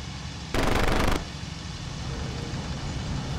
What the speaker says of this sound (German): Hab sie beschossen